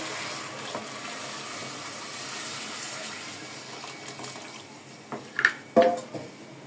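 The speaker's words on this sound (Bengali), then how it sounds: "ডাল চালটা আমি একটু ভেজে নিলাম। এখন দিয়ে দিচ্ছি গরম পানি।" Hot water poured over lightly fried lentils and rice in a pot for khichuri: a soft steady gushing hiss gives way to a few sharper splashing and bubbling bursts near the end, fairly quiet and close.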